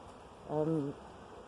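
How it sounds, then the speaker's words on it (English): Honeybees buzz at a community garden hive entrance, one bee's droning hum passing close by for about half a second over quiet background. "The bees here, they're coming out, they'll be going off foraging for for nectar and pollen"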